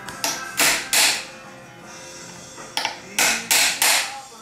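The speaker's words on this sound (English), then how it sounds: "the other thing that we can do is just stake the case" Hammer blows on a punch staking a metal case on a Cummins-powered rat rod build, two groups of three sharp, loud metallic strikes separated by a quiet pause.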